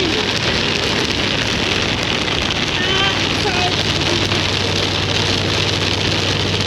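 Heavy rain drumming on a caravan-towing vehicle driving on an Australian road toward Millmerran, a steady dense wash of drops over a low engine and road hum throughout.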